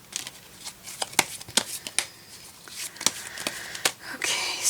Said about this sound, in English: You can shuffle a bit more.